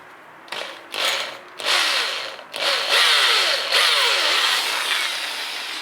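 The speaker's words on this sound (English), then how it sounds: "I've got the spatula in this vise here, and I'm just going to drill a hole" Power drill boring a hole through a spatula clamped in a vise, several loud bursts of high whining bite with short pauses between, then a sustained grinding drill run close by.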